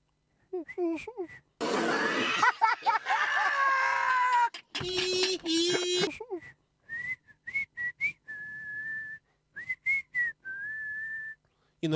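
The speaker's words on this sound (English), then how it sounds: "my mom is very good in blowing whistle" A person whistles several short, clear notes in a row, interspersed with breathy attempts and bits of talk.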